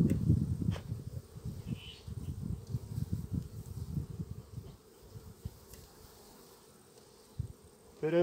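Honeybees swarm around a hive being smoked with burning orange peel, their dense buzzing loud and close at first, then thinning to a quieter hum with a few sharp knocks.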